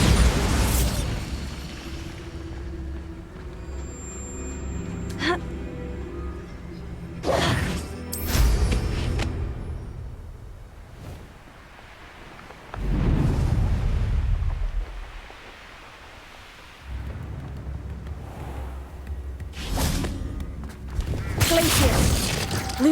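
Repeated blasts from the Bombarda spell in Hogwarts Legacy burst out at irregular intervals, each a sharp crack trailing into a rumbling boom, set against game ambience and occasional voices.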